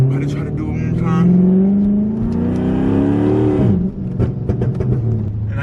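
A Dodge SRT's engine revs hard while sliding around corners in a quiet neighborhood, its loud droning pitch climbing for several seconds before dropping sharply into a rougher, uneven rumble.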